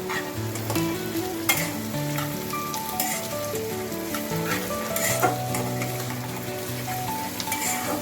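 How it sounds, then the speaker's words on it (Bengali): Soya chunks with shredded cabbage, carrot, capsicum and green chilli sizzle steadily in a pan for chow mein, with intermittent stirring scrapes and clatter; no voices. "সয়াবিনগুলো একটু ভাজা ভাজা করে নেব।"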